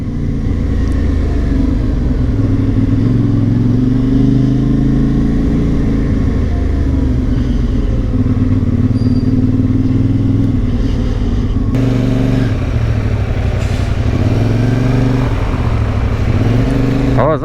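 A motorbike ridden through Monaco, with a steady, loud engine drone and road rumble throughout, shifting pitch as the rider accelerates, and a person talking over the noise.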